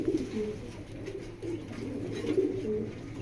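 Racing pigeons at a pigeon farm coo in soft, low, repeated throaty calls, close by and alone, with faint room noise underneath.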